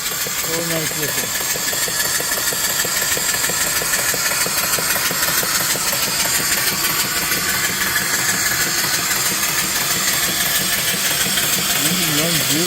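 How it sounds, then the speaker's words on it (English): An antique steam engine fed by a wood-fired boiler runs steadily nearby, a continuous rapid mechanical chuff and clatter over a constant hiss, with a voice briefly heard at the start and end. "Engine runs beautiful."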